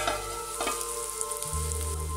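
Chopped onions sautéing in a covered pan over low heat for a Kottayam-style sardine chilli curry, giving a steady close sizzle with light stirring clatter and no talk.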